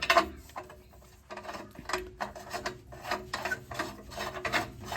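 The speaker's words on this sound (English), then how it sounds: "now we're going to pop the O2 sensor in" An O2 sensor being threaded into an exhaust spacer, heard as close, rhythmic metallic rasping and ratcheting strokes that repeat steadily with short pauses and no voices.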